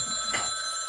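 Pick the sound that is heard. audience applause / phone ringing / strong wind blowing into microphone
phone ringing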